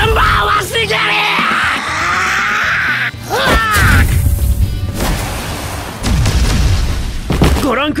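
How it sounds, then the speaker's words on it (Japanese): A huge explosion erupts in the One Punch Man game amid yelling and booming impacts, loud and chaotic, with voices shouting over rumbling blasts. "ご覧ください、ものすごい爆発です。"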